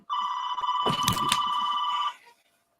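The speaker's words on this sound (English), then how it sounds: "my phone is going off during the podcast" A phone rings nearby with a loud electronic trill that holds steady for about two seconds, then stops abruptly.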